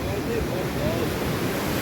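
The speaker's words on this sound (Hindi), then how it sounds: "पानी लेने के लिए जगह ये है, इधर में नदी है ना" A mountain river rushes nearby on a rainy day, its steady broadband roar of flowing water continuous and close throughout.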